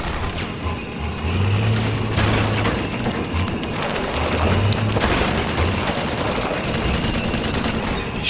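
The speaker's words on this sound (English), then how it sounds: "Shooting the ground with that tank." A tank in Metal Gear Solid 4 firing at the ground, a dense, loud, continuous rumble of blasts and heavy gunfire with mechanical clatter underneath, sustained throughout without voices.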